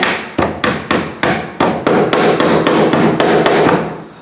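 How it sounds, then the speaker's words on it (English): Staples are driven one after another to fix electrical wire to a wooden board during a three-way switch wiring job, giving about eleven sharp, loud impacts in an even rhythm, close up and with no talking. "you want to staple the wire as close to the center of the board as possible"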